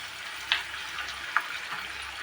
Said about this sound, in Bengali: এবার আমি চিকেনটা দিয়ে দেবো